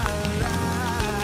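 Steady rain pours onto a car pulled over at the roadside in Montenegro, a dense continuous hiss and patter with no pauses.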